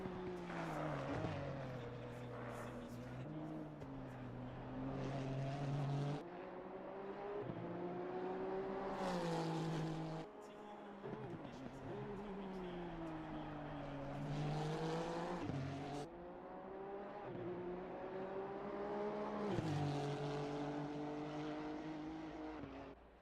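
A Honda GT3 race car engine drives around the Mount Panorama circuit, steady and loud, rising in pitch through each gear and then dropping sharply on the shifts, with faint commentary underneath.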